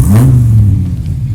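A Dodge Viper engine with a redone exhaust and high-flow catalytic converters revs loudly and close, a deep rumbling roar that swells and then settles back over about a second and a half.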